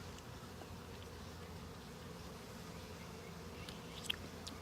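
Honey bees buzz around fresh honeycomb outdoors in a park, a faint, steady swarm hum with the occasional louder bee passing close by, no voices.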